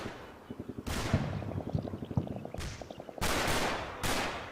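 Gunfire in the WWII strategy game Combat Mission: Battle for Normandy: a fast machine-gun burst of evenly spaced rounds, then several heavier, louder blasts that ring out and fade, all fairly distant and quiet.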